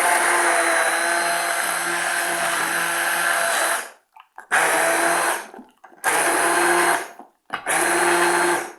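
Blender whirring through chilled asparagus soup in loud bursts: one long run, then three shorter pulses separated by brief pauses.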